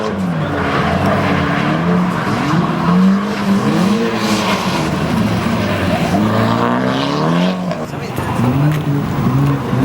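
Drift car at Lone Star Drift 2013 Round 3 on a rain-wet track, engine droning loudly with rising and falling pitch and tires squealing through the run, continuous and close.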